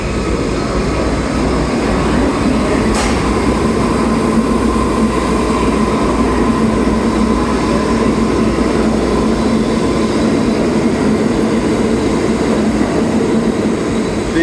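Steady, loud roar of a 1980s New York City IRT subway train running on its tracks near Rector Street station, with a constant low rumble and hum and one sharp metallic squeal early on.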